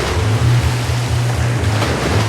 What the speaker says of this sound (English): A legendary river, raging water all around.